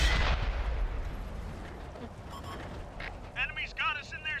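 Heavy tank gun booms in World of Tanks, a loud deep blast at the start fading into a rumbling decay, followed by lighter clanks, with excited voices speaking over the tail end.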